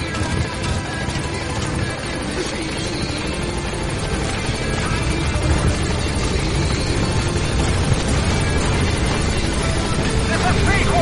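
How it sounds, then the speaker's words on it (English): The support helicopter arrives in the video game Metal Gear Solid V, its rotor and engine giving a steady, loud, dense roar for the whole stretch without break. "Support helicopter has arrived."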